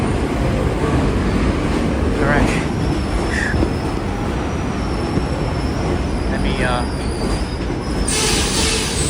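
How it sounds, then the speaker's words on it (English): A train rumbles past loudly on a Bronx street with a steady roar, metallic wheel squeals rising and falling, and a brighter burst of noise near the end. "Wait for the train to go by"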